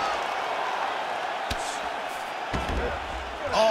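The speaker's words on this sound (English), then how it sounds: "big pop from the crowd as they get back to their feet after a pretty scintillating grappling battle there on the ground" A crowd roars in the UFC 5 fighting video game, its cheer swelling in the background as fighters rise from a grappling exchange, with a few sharp thuds and a commentator's voice over it.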